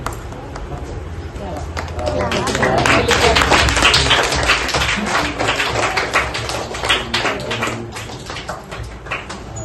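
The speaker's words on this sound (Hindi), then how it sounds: "आपने जोरदार तालियों से स्वागत कर दिया" A school audience of students claps loudly to welcome a guest advocate at an event, a dense, sustained burst of applause that swells after the first two seconds and stays strong throughout.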